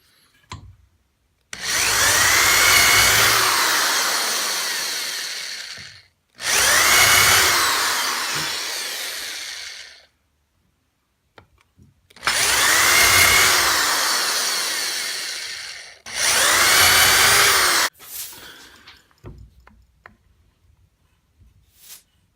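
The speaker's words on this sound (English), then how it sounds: "Drill, baby, drill" A power drill runs in four long, loud bursts of several seconds each, separated by short silences.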